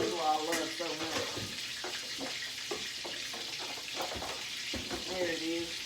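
A hamburger steak fries in a pan with a lively, crackling sizzle and a few scraping spatula movements as it is flipped, with a voice heard briefly near the start and end.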